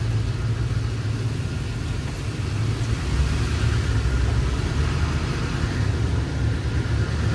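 Cars pass on a road heard from inside a moving vehicle on the way home from Connecticut, a continuous low engine and tyre rumble with a steady broadband wash, no voices.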